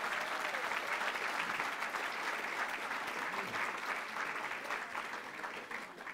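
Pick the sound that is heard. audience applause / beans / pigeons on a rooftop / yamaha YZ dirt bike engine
audience applause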